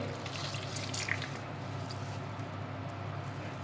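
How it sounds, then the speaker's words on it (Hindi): Soaked white bread slices are squeezed by hand over a bowl in a home kitchen, water dripping and trickling out in faint, close wet splashes against a steady background hiss. "इस तरह से इसको निचोड़ लिया है। सारा पानी इसमें से निकल गया है"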